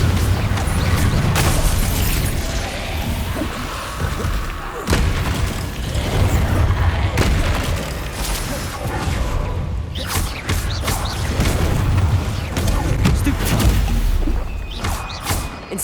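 Explosive Confringo spells burst one after another in a Hogwarts Legacy battle, heavy booming blasts and crashes repeating over a dense, busy din.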